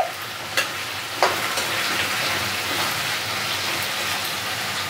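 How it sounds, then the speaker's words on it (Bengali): Potatoes sizzle steadily in hot oil for a beetroot aloo curry, a dense broadband crackle with two sharp clinks early on, close and alone with no talk. "এইবার আলুটা ভাজতে ভাজতে"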